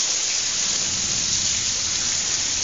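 Steady rain falls in a dense, even hiss across a few seconds, close and continuous with no voices, recorded outdoors near a Skystream wind turbine.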